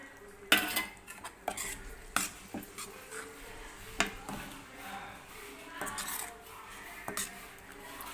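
Drumstick gravy simmering in a pot gets tamarind water stirred in with a metal spoon, giving irregular clinks and scrapes against the pot over a soft background hiss.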